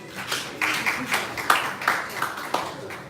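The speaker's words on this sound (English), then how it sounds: "Let's give a hand clap for the B blood type." A small audience claps in uneven bursts, the sharp claps blending with murmured voices and a bit of cheering over a few seconds.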